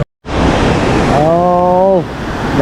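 Strong, clear water rushes in the Chaliyar river at Odayikal, Malappuram, on a windy day, a loud, close broadband roar that starts after a brief silence, with a short humming voice-like tone partway through.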